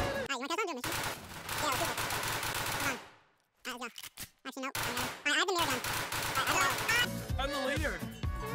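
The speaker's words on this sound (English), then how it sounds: "I'm trying to use a pistol" Rapid pistol gunfire in the tactical shooter Ready or Not: loud bursts of quick successive shots, cutting out briefly midway and then resuming, with someone talking over parts of it.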